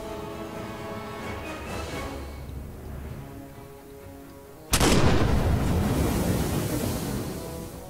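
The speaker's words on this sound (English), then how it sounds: "So my commandos have gas grenades." Gas grenades burst in the Warmachine Tactics video game: a sudden loud whooshing blast cuts in midway and leaves a broad roaring hiss, following a quieter tonal background of game music.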